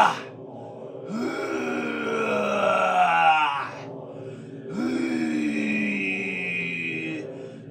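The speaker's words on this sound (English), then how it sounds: "making a sound on the out breath" A person gives deep, drawn-out groans on the out breath during a bioenergetic belly-activation exercise, two long voiced moans separated by a short pause, close and fairly loud with no talking.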